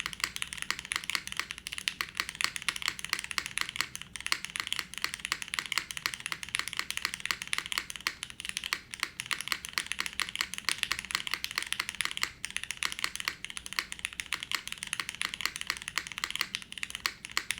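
Steady, dense clacking of mechanical keyboard switches lubed with GS2 as someone types continuously, close and clear with no voices.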